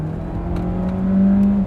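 A hybrid sports car engine hums steadily and rises in pitch as it accelerates, close by, with a whirring tone.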